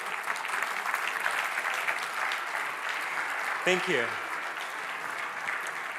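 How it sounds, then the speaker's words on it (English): An audience at the Ignite 2026 event applauds in a steady wash of clapping, and partway through someone says a brief word of thanks over it. "With a round of applause."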